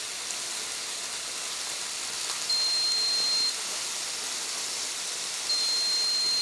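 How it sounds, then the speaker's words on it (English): A Tefal OptiGrill GC7P0810 gives two short electronic beeps about three seconds apart as it reaches its set cooking level, each over a faint steady hiss of steam from the grill. "A beep is heard and the indicator light comes on when the desired level of cooking is reached"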